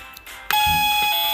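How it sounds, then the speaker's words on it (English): A toy doorbell on a pink kitty castle gives a soft click, then sounds a bright, sustained electronic chime that rings clearly and close up until the end. "Let's ring the bell one more time."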